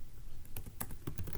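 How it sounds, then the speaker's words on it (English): Typing on a computer keyboard gives a handful of quick, light key clicks, close and fairly quiet over a low background hum. "you can just type in the body email."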